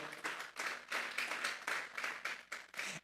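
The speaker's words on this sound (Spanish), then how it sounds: "Vamos a darle una ofrenda de palmas a Dios en esta hora." A church congregation claps hands together as an offering to God, with continuous rhythmic, fairly quiet applause that carries through the whole moment.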